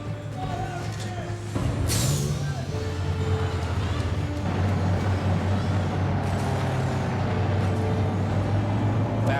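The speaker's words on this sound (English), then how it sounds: "Fast assault vehicle and an APC moving out. And there goes the hover tank cruising up the hill" In Battlefield 2142, a fast assault vehicle and an APC roll out with a steady, loud engine rumble and a sharp hiss of air release, while a voice talks over the vehicle noise.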